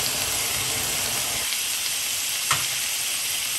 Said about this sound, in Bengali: এখন আমি এই পেঁয়াজটাকে খুব ভালো করে একটু কষিয়ে নিব